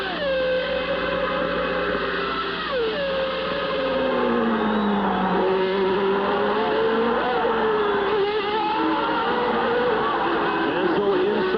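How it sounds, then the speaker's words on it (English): Ferrari Formula 1 cars race at the 1990 Mexican Grand Prix at Hermanos Rodríguez, a loud continuous high engine whine with rising and falling pitch as cars pass and shift gears. "The Ferraris seem to be stronger on the straight, and they seem to have incredible braking ability this afternoon."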